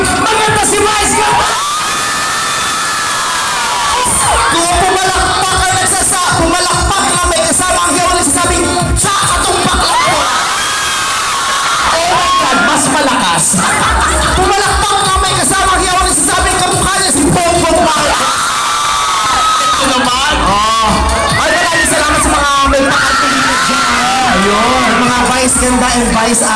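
A studio audience at a noontime variety show cheers, screams and shouts in loud, sustained waves, with music and voices mixed in throughout.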